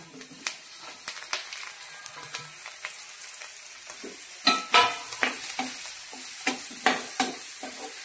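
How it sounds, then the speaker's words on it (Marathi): Oil sizzles steadily as okra pieces fry, with frequent scraping stirs and clattering turns in the pan, close and moderately loud, no voices. "आता ही तेलावर परतून घ्यायची"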